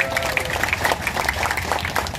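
Applause for volunteers at a thanksgiving gathering of a campaign volunteer post in South Tangerang, steady, dense clapping from a crowd lasting the whole moment, with some voices mixed in underneath.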